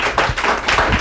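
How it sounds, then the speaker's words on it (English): A short burst of audience applause for a pair of magicians on a comedy show, a dense patter of hand claps, close and lively, lasting only about a second with no talk over it. "Let's give Jazz and Jimmy a round of applause"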